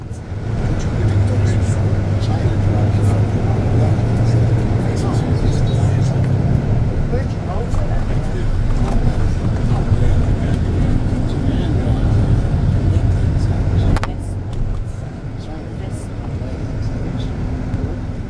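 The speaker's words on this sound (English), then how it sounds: "Oh, I love all these scooters." Busy Vietnamese city street with scooters and other traffic, a loud continuous drone of engines passing close by that eases slightly near the end.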